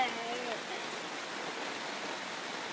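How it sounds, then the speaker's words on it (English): Rain pours down in Seattle as a soft, even wash of hiss that holds steady throughout, with a brief voice at the very start. "It's raining, it's raining."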